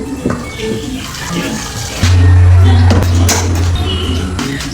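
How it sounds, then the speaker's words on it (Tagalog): A household faucet is turned on after some clattering, and water gushes loudly and close in a strong, steady stream that runs for the rest of the moment. "So, ayan, meron na kaming gripo."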